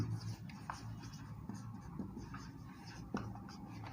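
Marker or chalk strokes scrape on a board in short, scratchy bursts against a steady background hum during a cell signaling lecture, with faint voice traces.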